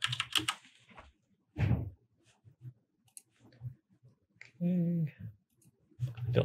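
Soft clicks of typing on a computer keyboard while setting up a plugin in Unreal Engine 4, a few scattered keystrokes heard faintly between stretches of someone talking.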